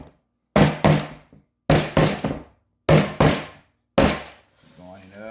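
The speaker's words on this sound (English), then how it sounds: "gonna knock the air bubbles out of it." A cake pan filled with peppermint crunch pound cake batter is knocked against a hard surface to release air bubbles: about seven hollow, resonant thumps, mostly in close pairs, loud and near, with a voice starting briefly at the end.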